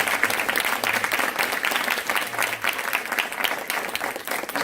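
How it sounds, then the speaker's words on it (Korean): Audience applause at a job-interview talk concert at a university, a steady, dense clapping that runs evenly through the whole stretch at a moderate, room-filling level, with no voices on top. "이 세 분께 큰 박수로 감사의 박수."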